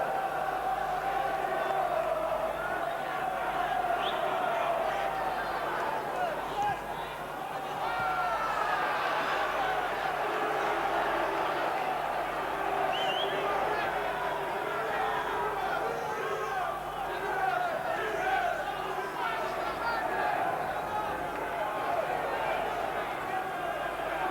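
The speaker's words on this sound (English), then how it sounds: "Now the crowd are getting right behind Millwall now" A football crowd at a Millwall v Wolves match in December 1994 sends up a steady, distant roar of cheering and chanting, heard under a commentator's voice.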